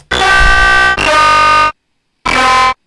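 A loud, buzzy tearout dubstep synth melody with a brassy, horn-like tone, played in three sustained notes separated by short gaps.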